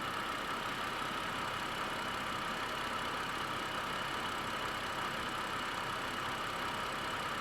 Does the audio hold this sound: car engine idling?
yes